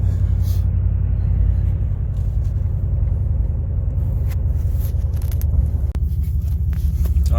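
A Ram 1500 with Doug Thorley 1 3/4 catless headers rumbles while driving, a deep, steady, loud exhaust drone heard from inside the truck, with a brief voice over it.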